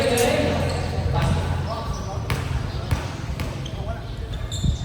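A basketball thumps a few times on a gym floor during free throws in a league game, short dull bounces heard under steady commentary and crowd murmur.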